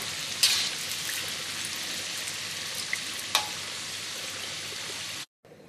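Sweet potato curry puffs fry in hot oil, giving a steady, close sizzle with a few sharp pops before it cuts off abruptly near the end.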